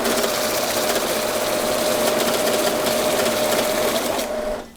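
A Kisan Newton banknote sorter counts a stack of 200-hryvnia notes, giving a fast, steady whirring rattle of bills feeding through that runs loud and close, then abruptly winds down at the end.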